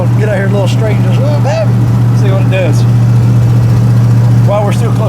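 A Chevy S10 truck fitted with nitrous rumbles at a steady, loud idle or low cruise, a deep continuous drone heard from inside the cab while people talk over it.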